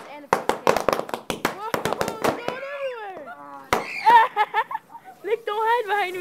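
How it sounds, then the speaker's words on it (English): Bottle rockets and a spray paint can go off outdoors in a rapid string of loud, sharp cracks and pops, followed by whistling tones while people shout and talk excitedly over them. "Got bottle rockets and a paint can."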